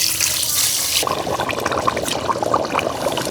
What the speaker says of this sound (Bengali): গোস্ত কষানো হয়ে গেছে এখন পরিমাণ মতো পানি দিয়ে দেবে